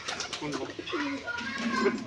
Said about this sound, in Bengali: এই যে দেখেছেন রাস্তার ওপারে চলে গেছে অনেক পায়রা